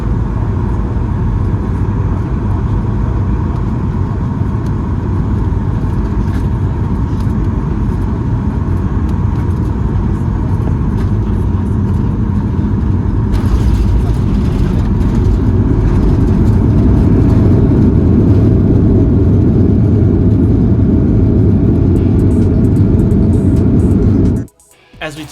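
Inside the cabin of a United Boeing 787-9 Dreamliner taxiing to the gate, a steady low engine rumble and broad cabin roar hold constant throughout, swelling slightly near the end before cutting off abruptly.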